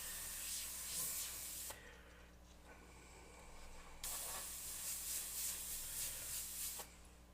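An airbrush sprays paint over a stencil while a skull design is being painted, steady close hissing bursts that stop and restart, with quiet gaps between sprays.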